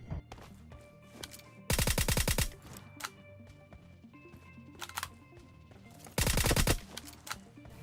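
Two loud bursts of rapid automatic gunfire from the mobile shooter PUBG Mobile Lite, each lasting about a second, stand out over a busy backdrop of in-game effects and scattered shorter shots.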